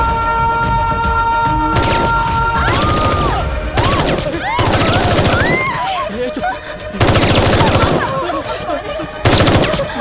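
Machine gun fire from terrorists storming a mall in a film scene: loud, sustained bursts of rapid automatic gunfire in several separate volleys, mixed with music and crashing effects, dense and close throughout.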